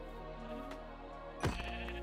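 Sheep bleat in a video game farm scene, a short sharp burst standing out near the end over a steady droning game background.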